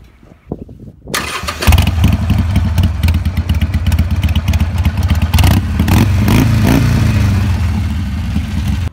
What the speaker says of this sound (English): And one thing amazing about Harley is the sound.